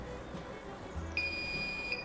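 Beautyteck Plus Plasma 2 beauty device emits a single long, clear electronic beep lasting about a second, close and fairly quiet over faint room hiss.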